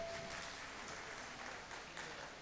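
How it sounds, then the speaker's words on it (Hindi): Audience clapping at a poetry recital, a continuous, fairly dense round of applause that holds evenly for a couple of seconds with no speech on top. "मैं चाहता हूँ कि आप अपने एजाज़ में एक मरतबा ताली बजाइए सब हजरात।"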